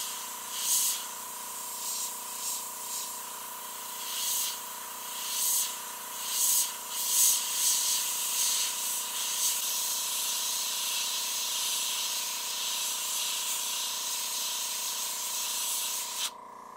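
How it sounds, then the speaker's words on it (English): Airbrush with a large needle spraying paint onto a Hot Wheels '64 Impala, a steady close hiss with brief pulses at the start and then one continuous spray lasting to the end, with no talk. "This is a pretty big needle on this airbrush, so I'm trying to use the overspray to get what I want done."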